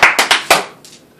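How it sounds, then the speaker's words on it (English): A man claps for himself, four sharp hand claps in quick uneven succession, loud and close, followed by a fainter patter of a few softer claps. "He's applauding himself."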